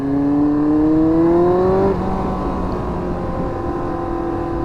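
A Yamaha R1 sport motorcycle engine riding on back roads, a loud steady drone that climbs in pitch, then drops sharply as the throttle eases and settles into a lower cruising hum.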